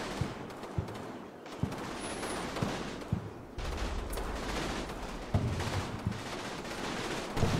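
Dense, sustained gunfire from a video game battle against American forces, with overlapping rifle and machine-gun bursts crackling continuously for several seconds and occasional louder single shots.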